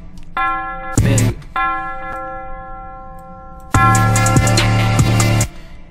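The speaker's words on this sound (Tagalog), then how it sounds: "Bell." A bell sound effect from beat-making software plays in bright, ringing tones with a clear harmonic ladder. Two single short hits are followed by a longer run of several struck notes that sustain and overlap, with no talk.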